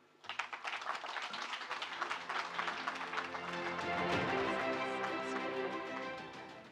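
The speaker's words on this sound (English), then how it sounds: "On applaudit encore une fois son Excellence, Madame l'ambassadrice." Audience applause for the female ambassador at a carbon markets conference in Africa, a dense patter of many hands that swells and holds steady, with a few voices murmuring underneath.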